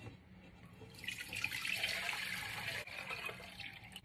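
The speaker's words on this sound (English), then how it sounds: "4 quarts of water in a pot" Four quarts of water pour from a measuring cup into a cooking pot for Cambodian rice porridge, a steady splashing hiss that starts after a quiet second and runs close and even to the end.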